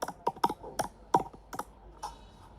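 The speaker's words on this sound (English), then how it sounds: "I'm going to type some numbers randomly." Numbers tapped on a computer keyboard in a spreadsheet, about ten crisp, close keystrokes in an irregular rhythm over a quiet background.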